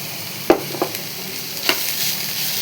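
Grated coconut, shallots, green chillies and curry leaves being stirred with chopped banana stem in a pan: a few brief scraping knocks from the spoon over a faint, steady sizzle.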